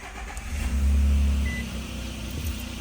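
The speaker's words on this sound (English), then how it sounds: "So now that we've changed our engine oil, we're going to start it." A 2023 Nissan Frontier Pro X engine cranks and catches after an oil change, swelling into a loud low rumble for about a second, then settling into a steady idle close by.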